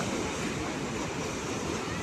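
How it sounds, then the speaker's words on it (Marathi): High-tide ocean waves wash close onto Srivardhan Beach at night, a continuous roaring surf rush mixed with wind buffeting the microphone. "आज भरतीमुळे लाटा जवळ जरा खूपच समुद्रकिनाऱ्याजवळ आलेल्या आहेत"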